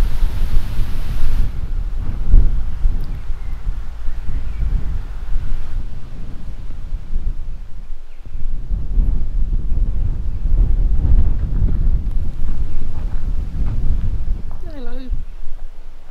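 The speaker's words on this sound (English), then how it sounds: "Windy today." Strong wind gusting outdoors in a South Downs village in East Sussex, buffeting the microphone in loud, rumbling waves throughout with only brief lulls.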